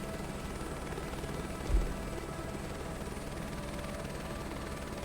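A helicopter in Microsoft Flight Simulator 2024, flying a crop-dusting job, drones steadily with a constant rotor and engine hum and a brief low thump partway through, close and even throughout.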